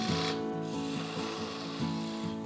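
Skew chisel roughing a wooden spindle on a lathe, a continuous rasping, scraping hum with a steady rhythmic pulse from the spinning workpiece, close and fairly loud, with no voice.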